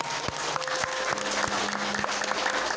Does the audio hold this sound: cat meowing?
no